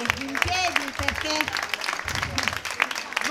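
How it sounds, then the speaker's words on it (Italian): Applause rises from the audience at a literary aperitif evening with music in Saronno. People talk prominently over the clapping. "Un applauso perché dai, in piedi."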